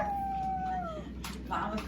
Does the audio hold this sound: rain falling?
no